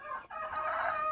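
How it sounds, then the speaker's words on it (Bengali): A rooster crows at a rural home with a cowshed, a single loud, sustained, close call that carries on to the end with no talk over it. "মোরগ ডাকছে।"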